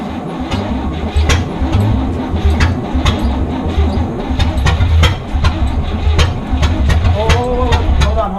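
The engine of a barn-find hearse that sat for 40 years, being built into an Ecto-1 replica, cranks and runs with a rough low rumble and sharp ticking clicks, while people talk over it.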